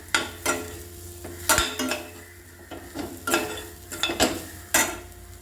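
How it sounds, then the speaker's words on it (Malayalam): Vallarai greens and crushed coconut being stirred together in a pan, with a spoon scraping and clinking against the metal in several distinct bursts over a low sizzle, close and fairly loud. "എല്ലാം കൂടെ നന്നായിട്ട് യോജിപ്പിച്ചെടുക്കണം നന്നായിട്ട് മിക്സ് ചെയ്യണം"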